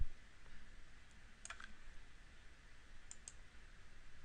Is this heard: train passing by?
no